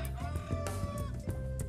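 Chickens cluck and call among livestock on a farm with goats, cows and pigs, a steady bed of overlapping bird calls and low rumbling noise.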